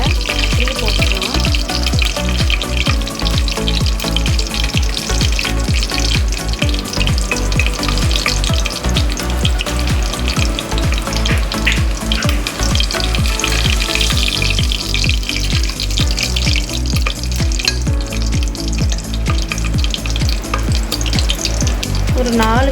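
Two chillies frying in hot oil in a pan for chicken biryani, a loud continuous sizzle and crackle close up with rhythmic stirring clatter throughout, no voices.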